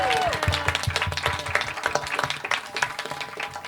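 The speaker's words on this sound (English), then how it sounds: "Let's give a big round of applause" Audience applause at a panel discussion, a loud, steady patter of many hands clapping close by, with a voice speaking briefly over the start.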